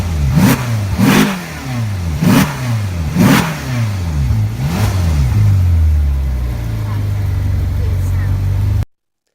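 Ferrari California engine revving in a run of five sharp blips, each rising and falling in pitch, then settling into a steady low idle, close and loud.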